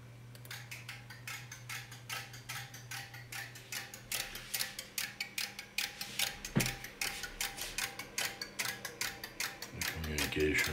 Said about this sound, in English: Relay PCBs, automatic tests, and let's do a self-test.